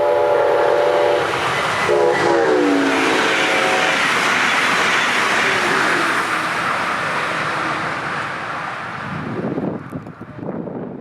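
Brightline passenger train BLF 720, carrying passengers from Orlando toward South Florida on the Florida East Coast Railway, rushes past at speed with a loud steady roar and a horn blast early on, the noise fading toward the end.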